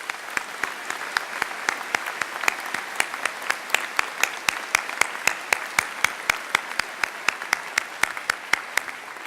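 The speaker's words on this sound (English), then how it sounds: "Please join me in applauding these graduates." Sharp, evenly spaced claps ring out in a large space at a 2016 commencement ceremony, each hand clap distinct with a reverberant tail over a thin background of scattered applause, steady for several seconds.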